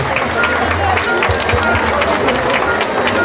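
Loud, sustained applause from a crowd at a community ceremony honouring local merchants, a dense steady roar of clapping with some cheering and babble mixed in.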